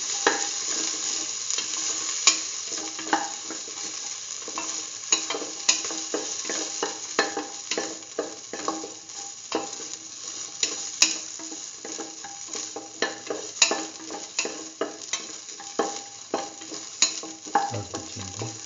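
Ginger and salt fry in a hot pan under a constant sizzle, while a utensil scrapes and taps the pan in an irregular stirring rhythm, close by and with no speech.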